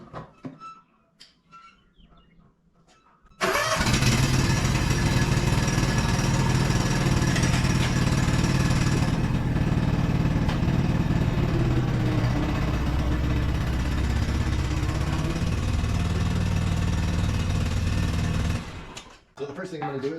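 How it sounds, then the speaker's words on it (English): Zero turn mower engine starting up and running: a loud, steady, rough mechanical drone with rumbling low tones that comes in abruptly after a quiet opening and runs for about fifteen seconds before cutting off. "we're back on the zero turn mower"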